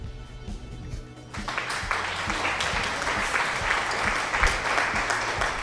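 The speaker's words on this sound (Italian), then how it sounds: "Qua ci vorrebbe un bell'applauso qua." Applause from a crowd: quieter clapping at first, then swelling into dense, sustained clapping that stays loud to the end.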